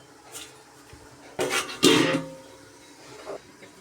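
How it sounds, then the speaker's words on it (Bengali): A metal lid set onto a cooking pot during home Bengali cooking gives two quick clanks close by, with a softer knock afterward against a quiet kitchen background. "এখন আমি ঢেকে দিব আবারও।"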